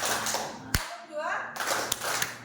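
A school group at a junior high in Indonesia claps together in a counted clapping routine: sharp bursts of unison claps, one loud single clap, separated by a brief lull, with an instructor's voice and voices around them.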